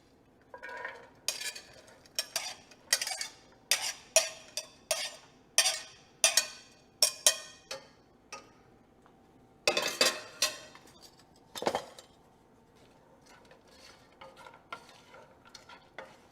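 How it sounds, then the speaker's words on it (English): Carrots, celery, onions and potatoes sautéing in fat in a pan, a low sizzle beneath a steady run of sharp scraping and clinking spoon strokes against the pan, close and loud, no talking. "get my carrots, celery, onions, and potatoes in this pan. And I'm going to saute them until they're nice and soft"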